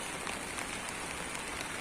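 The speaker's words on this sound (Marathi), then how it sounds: "पाऊस सुरू आहे" Steady patter of monsoon rain falling on a surface, a continuous dense hiss without pauses.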